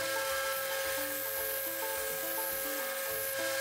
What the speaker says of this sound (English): use our medium Scotch-Brite belt that we have and just start putting a little bit better finish on the knife